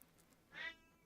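A pet cat gives a single short, faint meow indoors against quiet background hum.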